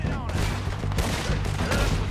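Rapid gunfire in Red Dead Redemption, a dense burst of loud overlapping shots close by, with a voice shouting briefly among them.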